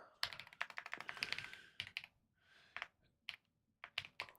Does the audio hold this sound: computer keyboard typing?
yes